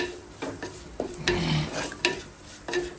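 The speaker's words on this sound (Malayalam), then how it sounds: "ഈ ജിഞ്ചർ ഗാർലിക് പേസ്റ്റ് കിട്ടില്ലേ അതിൻ്റെയൊക്കെ മണം മാറണം നന്നായിട്ട് ഒന്ന് ഫ്രൈ ചെയ്ത് എടുക്കാം" Ginger garlic paste fries in a pan for a Kerala-style sardine curry, giving a steady sizzle broken by repeated scraping stirs and light clatter from a spoon against the pan, with no voices.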